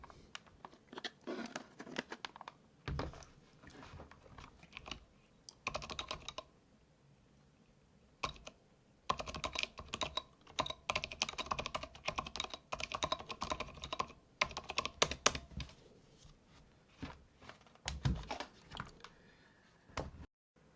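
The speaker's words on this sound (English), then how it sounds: "let's just compare the typing sound. This is a silent red switch. Let me do some typing." Steady close-up typing on a Filco Minila compact mechanical keyboard fitted with silent Cherry red switches, muted soft keystrokes in quick bursts separated by short pauses, no voices.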